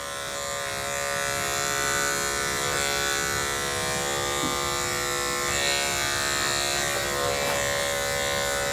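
Electric clippers trimming a dog's hair give a steady, unbroken mid-pitched buzz at close range, holding an even level with only slight wavers as they move through the coat.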